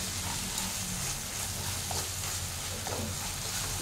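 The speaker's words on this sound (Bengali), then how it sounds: "এবার এটা ভালো করে মিশিয়ে নেব।" Poppy seed curry is stirred in a pan with a constant close sizzle of frying and soft scraping from the spoon, with no voices over it.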